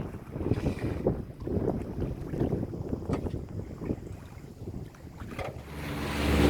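A sailboat's motor runs in a low, continuous rumble while underway, mixed with wind buffeting the microphone and water sounds. The rumble swells louder at the end.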